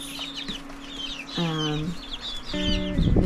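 Young farm chickens in a brooder cluck and peep, with two louder drawn-out clucking calls rising over a background of soft chirping, close by; a voice briefly speaks.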